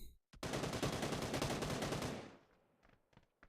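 Minigun fire in the New State Mobile battle royale game during an esports match, a single sustained rapid burst of about two seconds that trails off into scattered distant shots.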